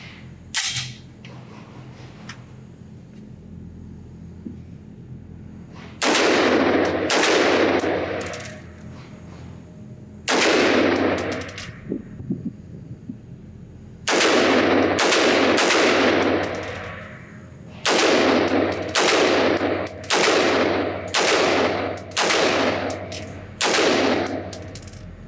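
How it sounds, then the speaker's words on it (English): An FN Herstal SCAR 15P 5.56 rifle fires at an outdoor range: loud, sharp shots come in several quick strings, each crack trailing a short echo, with quiet pauses between strings and no talking. "So let me load up another magazine and give him a chance to shoot it."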